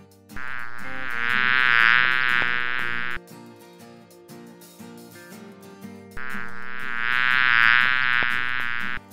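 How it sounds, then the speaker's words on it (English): Bee buzzing in a children's animal sound game, two loud sustained droning bursts of a few seconds each, separated by a short musical pause. "Bee."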